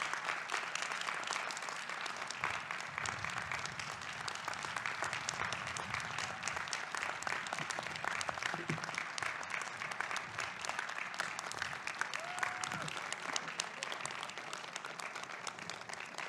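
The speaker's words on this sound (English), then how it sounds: "You deserve another round of applause." Sustained audience applause at a college graduate commencement, a steady wash of many hands clapping from a large crowd, fairly distant and even throughout.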